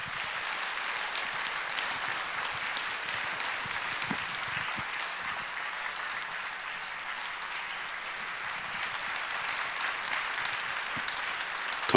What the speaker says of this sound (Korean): 따뜻한 박수로 목사님 환영하겠습니다